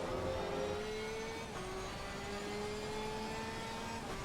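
Race car engine held on throttle in Assetto Corsa at Zandvoort in the wet, a steady droning whine that climbs through gears with brief shift dips, loud and continuous, no talking.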